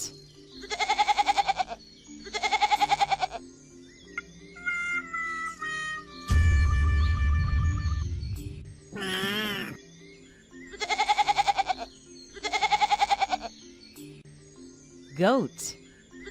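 A goat bleats in loud, pulsing, quavering cries, two at the start and two more later, close by, separated by musical tones and other animated sounds.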